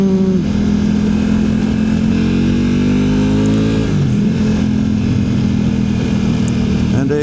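A Suzuki Swift drives fast past on a wet, windy road in Snowdonia, its engine droning steadily and rising then falling in pitch as it goes by, heard under continuous wind and road noise.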